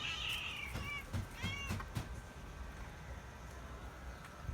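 Two pet cats meow and caterwaul indoors, several drawn-out, wavering cries bunched in the first two seconds, fairly close over a low background rumble, then quieter rustling.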